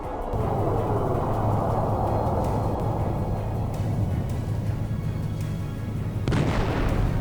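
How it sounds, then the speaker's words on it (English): Javelin anti-tank missile launched toward a stopped vehicle in the war in Ukraine: a sustained loud rushing roar that fades over several seconds, then a sharp impact burst near the end, with no speech. "The first Javelin missile flies out."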